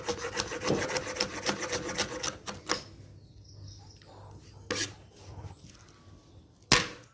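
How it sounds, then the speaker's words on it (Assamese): A knife chops garlic on a wooden cutting board in a home kitchen where pork is being prepared: rapid rhythmic taps at first, then a few isolated sharp knocks, close by. "নহৰুখিনি চপ কৰি ল'ম।"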